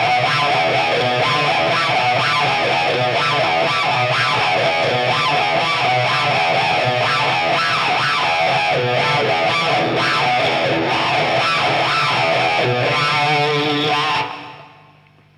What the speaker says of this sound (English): So with the riff, using a talk box, it sounds like this.